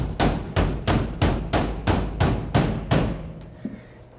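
A plastic Christmas tree fastener pushed into soda machine trim, heard as about nine loud, evenly spaced close thumps, like pressing or tapping, followed by quieter handling.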